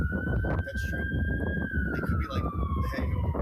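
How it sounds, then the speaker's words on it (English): A police-type siren wails steadily in the background during a live sports radio stream, its pitch sliding slightly downward while people talk over it in the foreground. "You can also hear sirens in the background."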